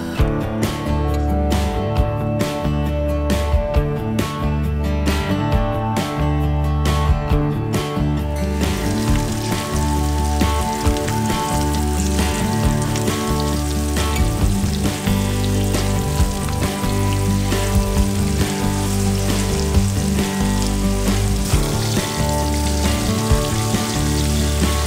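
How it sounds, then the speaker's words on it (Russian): Fish fries in oil in a pan, a dense, loud, continuous sizzle and crackle that carries on steadily throughout, homestyle cooking in a Caucasus village. "Рыбу мы пожарим на сковородке по-домашнему"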